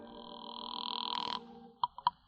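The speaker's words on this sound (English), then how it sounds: "I borrowed Lillian Litton's phone and called the Lion." A telephone rings in a radio drama as a detective calls an informant on a borrowed phone: a steady electronic ring tone, then a few short clicks and tones, heard close with no voices.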